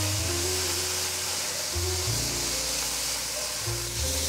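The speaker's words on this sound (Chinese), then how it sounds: "现在放入芹菜，快速翻炒。" Celery is stir-fried quickly in a wok with five-spice powder and soy sauce, giving a loud, continuous sizzling hiss over a low steady tonal background.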